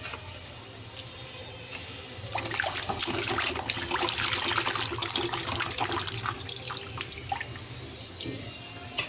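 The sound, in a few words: washing chicken pieces in water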